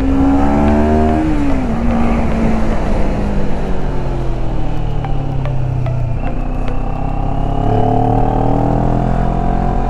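A 2019 CF Moto 400 NK motorcycle, not yet run in, roars close by while being ridden, its engine note rising and falling through gear changes over a steady loud drone of wind and road noise.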